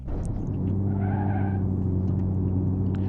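Tyres of a low-powered Satsuma 210 convertible skid briefly as it oversteers in BeamNG.drive, a short squeal riding over a steady engine drone and rumble that continues to the end.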